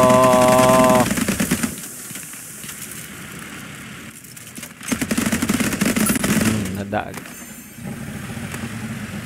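Rapid machine-gun fire and explosions from the naval combat game Age of Water, loud and continuous, with engine drone and a voice talking over it.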